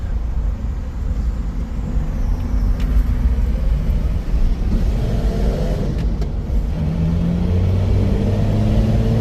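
A 1965 Dodge Dart GT six-cylinder with dual Holley one-barrel carburetors on an Offenhauser intake and a four-speed gearbox, its engine rumbling low and loud on a drive, with intake noise rising slightly as it pulls.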